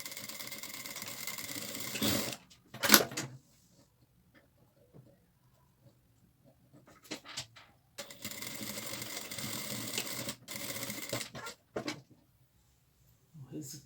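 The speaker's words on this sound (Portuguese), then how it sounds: "E aí eu vou só passar uma costura de segurança para fixar e facilitar na hora que eu for costurar." A sewing machine runs in bursts while stitching a securing seam on a fabric apron, with a loud stretch at the start, a short burst, a quiet pause with faint handling, then longer runs near the end.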